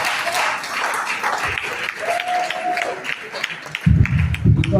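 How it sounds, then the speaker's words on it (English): Audience applause at a World Population Day report launch event, a sustained crowd of clapping hands filling the room, fairly loud and continuous, with some voices mixed in toward the end. "But I think they need a bigger hand of applause."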